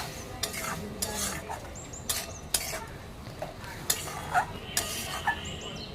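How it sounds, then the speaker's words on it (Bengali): A utensil stirs fried potatoes and water into a stingray fish curry in a pan, giving a series of scraping strokes and light metallic clinks over a faint background hiss. "আবারও দিয়ে দিচ্ছি বেশ খানিকটা জল তো দিয়ে আলুটাকেও আমি মিশিয়ে নিচ্ছি"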